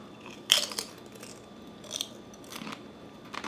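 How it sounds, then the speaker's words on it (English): Maple bacon flavored potato chips, kettle-style and crunchy, crunch in a few sharp bursts close to the mic, with a loud bite near the start and quieter crunches later, no talking. "I like how crunchy they are too,"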